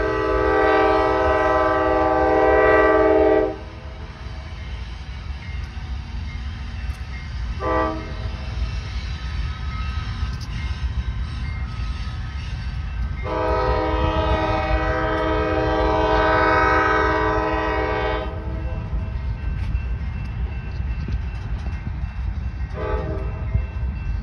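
A CSX freight train rumbles steadily past, with several loud horn blasts: long ones at the start and middle and short toots between.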